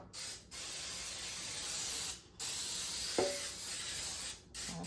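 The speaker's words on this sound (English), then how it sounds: "let me spray the pan while I'm thinking about what I want to do." Cooking spray hisses onto a baking pan for bread rolls in a home kitchen, coming as three long continuous bursts separated by brief pauses, close and fairly quiet, with a small clink partway through.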